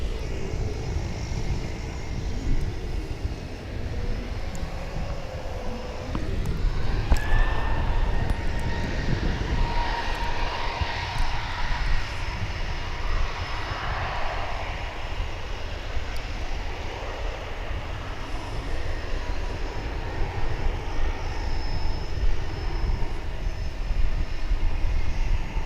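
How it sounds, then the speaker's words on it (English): Two Martinair cargo planes line up for takeoff at DFW International Airport, engines producing a steady, loud drone with a rising whine partway through, continuous throughout with no talk. "So two of those Martin Air cargo planes lining up to take off."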